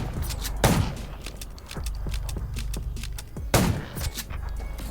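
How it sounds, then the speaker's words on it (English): Gunfire in the zombie survival video game Undawn, two heavy booming shots roughly three seconds apart amid a rapid crackle of lighter shots and clicks, loud and close. "Gunshots will... That's a junkyard."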